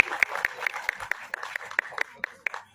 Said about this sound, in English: Can we have a huge round of applause for the entire star cast, please?